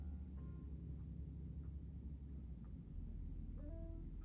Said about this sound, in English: Oh, the winds are blowing